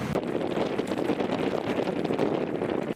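A strong, freezing north wind blows on the Azov Sea coast in wintry frontline conditions, buffeting the microphone with a loud, continuous roar that gusts without letup for the whole stretch and no voices.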